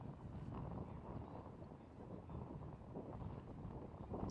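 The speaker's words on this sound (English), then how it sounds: "but you're also hearing the wind pick up again" Outdoor wind gusts roar steadily across a disc golf course, a broad, fairly faint rush buffeting the microphone with no talk over it.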